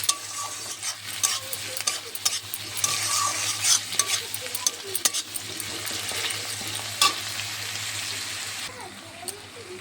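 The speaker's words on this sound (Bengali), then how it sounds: "এবার একটু নাড়াচাড়া করে নেব।" Prawn malai curry being stirred in a frying pan, with a steady sizzle under scrape-and-clatter strokes of the spoon, close up and continuous, with faint speech in the background.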